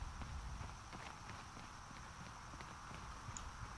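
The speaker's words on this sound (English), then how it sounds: "Thought I heard, like, big footsteps." Heavy creature footsteps thud at an irregular, plodding pace in the video game Fallout 4 Far Harbor, faint and distant under a steady ambient hiss.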